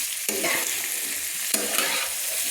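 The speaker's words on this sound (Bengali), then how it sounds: "এবার বন্ধুরা আমি জল অ্যাড করে দিচ্ছি।" Spiced kohlrabi curry sizzles and fries in a pan with stirring scrapes, and a couple of sharp splashy bursts sound as water is added, hissing loudly up close with no talk.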